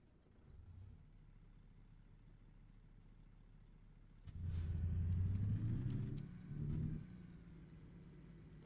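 A truck engine in American Truck Simulator cranks to life partway through, a low rumbling idle that swells briefly and settles, heard close over quiet background.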